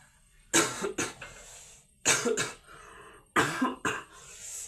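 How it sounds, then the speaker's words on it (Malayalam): Repeated close-up coughing from one person, in three separate bouts of two harsh coughs each, with short quiet gaps between them and no talking. "ഈ ചുമയാണ് ഗൈസ് പോവാത്തത് ചുമ അങ്ങോട്ട് പോണേ ഇല്ല"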